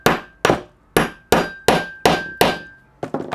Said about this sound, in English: we're going to hammer down. Give it a couple good whacks.